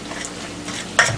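A close, steady sizzle of salted vegetables frying in a pan, with a brief scrape of stirring near the end.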